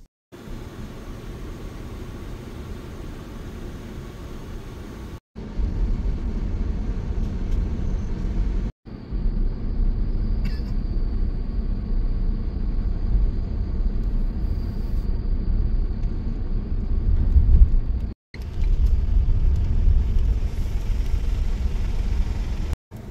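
An early-morning drive by car along a deserted main road through Indian wildlife country, with a steady engine and road rumble and faint cabin hiss running throughout, and a few brief cuts.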